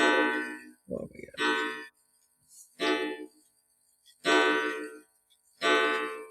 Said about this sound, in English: we just keep waiting for Frank's clock to finish off here.